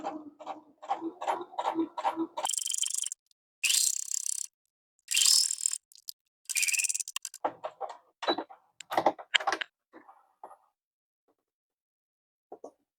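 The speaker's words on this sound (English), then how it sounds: "Back stitch at the beginning and the end, and then finish your seam" A sewing machine stitches a poncho seam in short bursts: quick mechanical rattling runs start and stop several times, separated by silences and lighter clicks.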